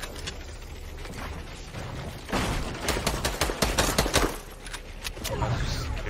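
Rapid bursts of video game gunfire from a shooter match, several sharp volleys crackling over a steady background, loudest in the middle stretch, with a voice murmuring underneath.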